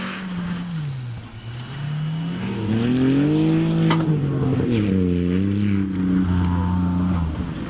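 Front-wheel-drive and stock all-wheel-drive rally cars, Subarus among them, on a gravel stage: engines climb and fall through gears with rising, dipping revs, moderately close and loud, no voices.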